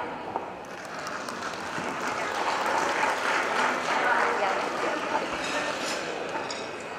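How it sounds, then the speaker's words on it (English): Sustained audience applause at a conference event, a dense steady wash of many hands clapping that swells in the middle and tapers slightly, with faint crowd noise beneath. "Big applause."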